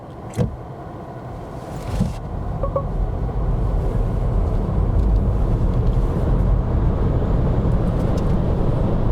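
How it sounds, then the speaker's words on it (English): A Volvo EX30 electric car accelerates hard from 0 to 100 km/h, heard from inside as a broad rushing road and motor noise that swells after a few seconds and then holds steady and loud. "Let's accelerate 0 to 100 kilometers an hour."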